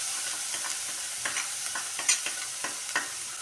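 A spoon or ladle stirs spice masala into a spicy kadubu mixture, giving soft, fairly faint scraping strokes with a light sizzle and a few sharper scrapes against the vessel.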